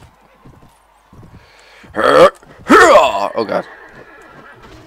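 A horse in the video game Mount and Blade Warband gives two loud, close whinnies in quick succession, with a voice speaking briefly around them.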